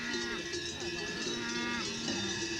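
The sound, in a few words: cattle with cowbells on an Austrian mountain pasture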